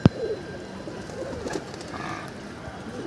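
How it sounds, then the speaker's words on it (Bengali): Soft coos of female pigeons bathing sound faintly over a hissy background, with a sharp knock at the start and light fluttering noises. "মাদি কবুতরগুলো গোসলের জন্য ছাড়লাম, অল্প কিছু মাদি কবুতর।"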